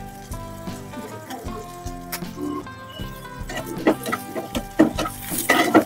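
Chopped onion, ginger, garlic and green chilli frying in a pan, faint sizzling beneath louder clinks and scrapes of a spoon stirring, with background music and occasional tonal sounds running through.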